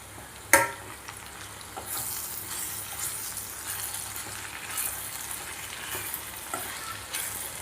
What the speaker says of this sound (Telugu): ఇలా మధ్య మధ్యలో కలిపెడుతూ ఉండాలి, లేకపోతే అడుగంటిపోతుంది.